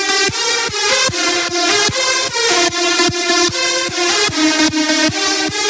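Loud hardstyle track produced in FL Studio, with punchy kicks on a steady four-on-the-floor beat under a dense, bright lead, playing alone with no talk.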